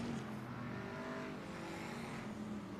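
Race cars battle for third place around Barona Speedway in Lakeside, California, their engines a continuous distant roar blurred by crowd and ambient noise, no voices.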